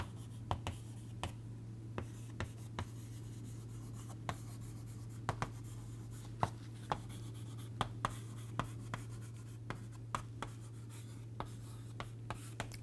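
Equations being written by hand, a quiet scratching of pen or chalk with sharp tapping strokes at irregular intervals over a steady low hum, close and faint, with no one talking.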